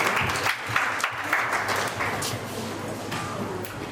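Audience applause welcoming a speaker, a moderate wash of clapping with some louder individual claps and faint voices underneath.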